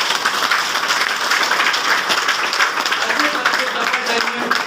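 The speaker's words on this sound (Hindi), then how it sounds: "तो ज्यादा ताली बनती है ना।" Audience clapping at a Safe Shop business meeting, a steady dense patter of hands that continues evenly throughout with some voices mixed in.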